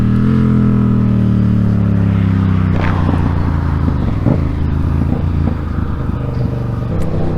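Motorcycle engine revving hard and steady during a power wheelie, a loud continuous drone with rising pitch and rough scraping texture in the latter half, no talk.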